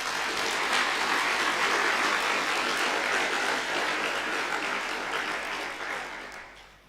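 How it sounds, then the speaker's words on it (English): An audience claps in sustained, dense applause that stays steady for several seconds before tapering off at the end. "please give them a round of applause"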